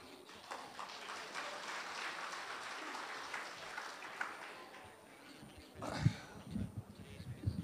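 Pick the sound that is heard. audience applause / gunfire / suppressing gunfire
audience applause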